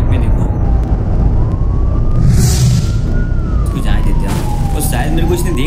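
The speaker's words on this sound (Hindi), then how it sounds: "मेरे को व्हीकल की आवाज आ रही है, सामने कहीं पे एनिमी है।" A vehicle approaching in the Free Fire battle royale game, a loud low engine rumble with a slowly rising and falling siren-like whine on top, steady throughout under a voice speaking.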